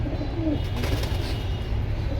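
Soft, low pigeon coos sound a few times over a constant background rumble, fairly close but not loud.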